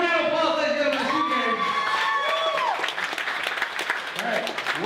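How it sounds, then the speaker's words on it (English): A crowd at a wedding at a ranch claps and cheers, with whoops and shouting voices rising over steady applause, lively and close. "Give a round of applause, ladies and gentlemen, for"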